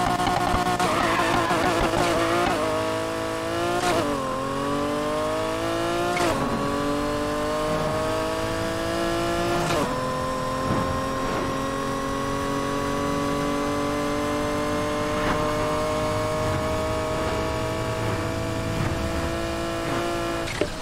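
BMW M2 fitted with a Lamborghini Aventador engine, driven in Need for Speed Heat, with a continuous loud engine roar climbing through gear changes and tire squeal over about twenty seconds.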